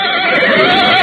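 A horse whinnies in a radio-drama sound effect, a single loud, shrill neigh that quavers through the whole brief moment, close and on its own.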